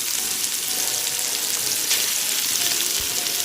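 Onions frying in a pan as the base for a broccoli cheese soup, a steady bright sizzle that stays even and close throughout with no talking.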